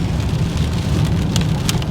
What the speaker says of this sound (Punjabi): ਸਾਰਾ ਮੀਂਹ ਕਿੰਨਾ ਜ਼ਿਆਦਾ ਪੈ ਰਿਹਾ ਹੈਗਾ ਇਸ ਟਾਈਮ